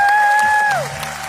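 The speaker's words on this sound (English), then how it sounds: "I'll give you a huge round of applause." An audience of about a thousand on a cruise ship stage show applauds in a broad, steady wash, with a sustained high tone sliding downward over the clapping.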